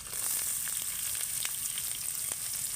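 Chopped ginger, garlic and onion fry gently in oil, giving a soft, even sizzle with faint crackles throughout and no voices.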